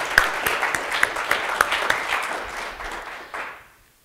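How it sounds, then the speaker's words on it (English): Conference audience applause after a talk on PowerShell Gallery outage mitigation: a steady burst of many hands clapping that tapers off and fades to quiet within about four seconds. "so let's give her a round of applause"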